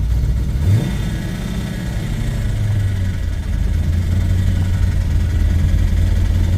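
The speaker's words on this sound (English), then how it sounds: "as soon as you put the clutch in. Hear that noise? And then you rev it a bit." A Ford Falcon XB GS hardtop engine runs loud and close with the clutch pedal pressed in, a steady rumbling idle that swells into a brief rev while a faint clutch whine hums underneath.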